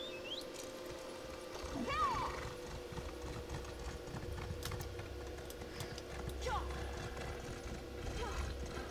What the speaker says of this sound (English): Jump on the horse.